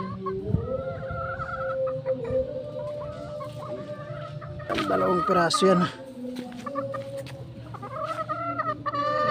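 Chickens cluck and cackle nearby while someone talks over them, one sharper burst of squawking in the middle.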